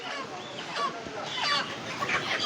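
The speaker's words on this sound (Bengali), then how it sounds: "আমাদের দোকানে মুরগি আসছে" Chickens at a poultry shop in a market, a crowded chorus of clucks and squawks close by, busy and continuous with faint voices mixed in.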